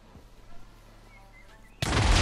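An explosion from a Naruto anime mod in Minecraft, a sudden loud blast that erupts after a quiet stretch and keeps rumbling to the end.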